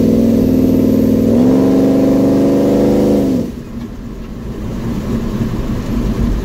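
A 1971 Chevy C10 pickup accelerating on a country back road, loud engine revving with rising harmonic tones that climb across the run, then cut to a lower rumbling cruise.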